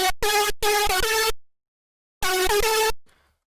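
Dirty, gritty synth lead from FL Studio's Fruity Master sound bank playing a hardstyle melody: three loud, harsh sustained notes, a pause, then one more note that ends in a faint tail.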